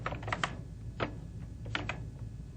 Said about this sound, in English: I'll begin by typing in my salutation